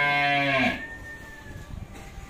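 Cattle in a Vietnamese farm pen, including a large pair of bulls around eight months old, let out one loud, drawn-out moo that fades away, leaving quieter barn noise behind.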